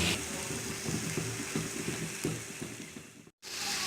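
Onion, carrot, capsicum and tomato slices fry in a pan with a steady broadband sizzle, layered with faint clicks and low rumble, cutting to a brief silence near the end before the sizzle resumes.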